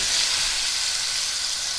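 A chuck roast sears in a hot pan, giving a loud, steady, close sizzle with no pauses and no talking.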